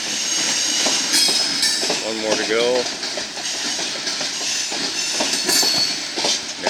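Freight train rolling uphill out of Glendive, Montana, behind a laboring, smoking GE locomotive, with steady rumbling wheel noise and a brief squeal of wheels; someone speaks briefly over the loud, continuous train sound.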